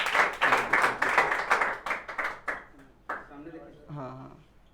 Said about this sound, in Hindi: जोरदार तालियां हो जाएं शैलेश यादव के लिए।